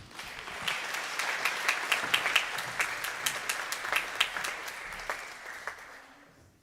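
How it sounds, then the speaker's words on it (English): An audience applauds a speaker being introduced at a talk, with a full, steady round of clapping that swells and then fades away, no voices over it. "please a warm round of applause"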